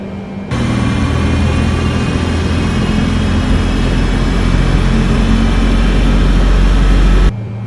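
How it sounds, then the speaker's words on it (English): Airliner engine 1 spooling up during startup in Microsoft Flight Simulator, a loud steady low roar with a whining hum that cuts in abruptly, holds and rises slightly in low rumble before stopping sharply. "Alright, starting engine 1."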